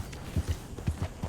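Horse hooves in the video game Red Dead Redemption 2 land as a series of soft, close thuds in an uneven walking rhythm, with no talk over them.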